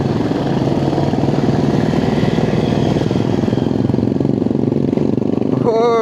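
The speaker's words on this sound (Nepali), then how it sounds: "केटाहरूको बाइकको साउन्डले गर्दा हामीले बोलेकै सुन्दैन जस्तो छ यहाँ" Several motorcycles idle and rumble together on a ride toward Tindharey waterfall, a loud, steady, throbbing engine drone with a rising whine near the end.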